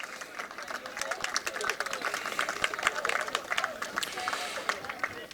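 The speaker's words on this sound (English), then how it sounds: "Round of applause for the DRS62 Academy drivers." Applause for junior race academy drivers at a karting event prize-giving at Hooton Park, a scattered round of clapping from a modest outdoor crowd with chatter, moderately distant.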